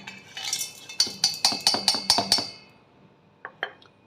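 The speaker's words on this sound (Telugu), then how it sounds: "ఇప్పుడు మిక్సీ జార్లోకి పోపు దినుసులు వేసుకుందాం." Tempering spices dropped into a steel mixer grinder jar make a quick run of bright metallic clinks and rattles, ending in a couple of softer, isolated ticks after a short pause.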